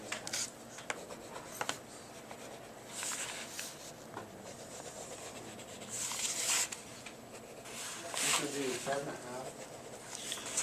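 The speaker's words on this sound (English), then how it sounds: "I'm going to start darkening in, otherwise this is going to become very hard to see with all the lines that I'm drawing" Pencil drawing on paper while darkening perspective lines, with soft scratchy strokes and rubbing coming in short bursts and a quiet voice talking faintly in the background.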